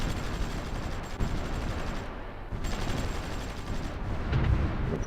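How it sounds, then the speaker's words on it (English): Artillery bombardment in the strategy game Supreme Ruler Ultimate, a dense continuous rumble of rapid gunfire and distant booms rolling on without pause, loud and unbroken. "we got artillery here that is able to bombard those units over there"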